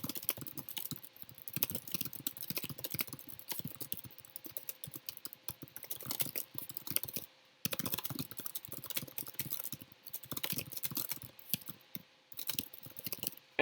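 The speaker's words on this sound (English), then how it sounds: "I apologize for the slow typing" Someone types on a computer keyboard in quiet, irregular bursts of light key clicks, with short pauses between runs, close and fairly soft, with no talking.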